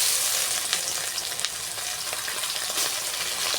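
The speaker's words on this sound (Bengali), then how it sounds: "এবার মাছগুলো তেলেতে দিয়ে দেব।" Fish rubbed with salt and turmeric frying in hot oil in a kadai wok, a loud, dense, continuous crackling sizzle with scattered sharp pops, close and steady throughout with no voices.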